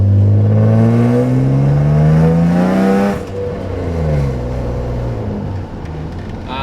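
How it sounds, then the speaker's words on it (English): A car engine with a loud, raw full straight-pipe exhaust and MagnaFlow muffler revs up through the gears, drops off sharply, then settles into a rumbling idle with small blips. "The car sounds really good. It has a full straight pipe exhaust system with a MagnaFlow muffler"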